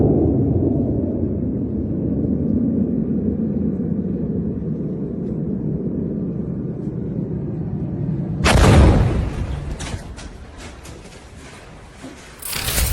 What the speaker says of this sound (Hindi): सऊदी अरब में अमेरिका के एयरबेस पर ईरान की मिसाइल ने गिरकर